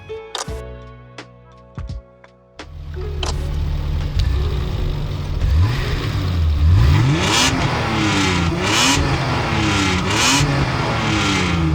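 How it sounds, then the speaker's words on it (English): A BMW E30 engine revs repeatedly with a raspy, tinny, metallic exhaust note, rising and falling in pitch, loud and close after a few brief sharp clicks at the start. "when you rev the car, it is raspy and tinny"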